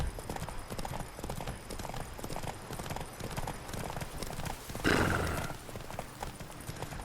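A horse gallops in The Witcher 3: Blood and Wine, steady rapid hoofbeats close by throughout, with a loud whinny about two-thirds of the way in and no talking.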